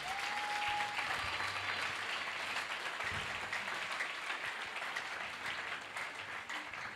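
A church congregation at a consecration service applauds in sustained, fairly distant clapping that fills the whole stretch, with a brief tone and faint murmurs underneath.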